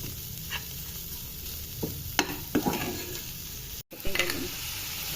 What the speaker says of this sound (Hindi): उसको अच्छे से भुनेंगे ताकि मसाला जो है वो अच्छे से पक जाए और कच्चा ना रहे।